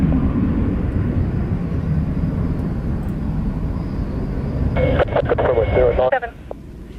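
Military jet roaring loudly down runway 09 at the Royal International Air Tattoo, a dense continuous engine rumble with a radio voice crackling over it near the end.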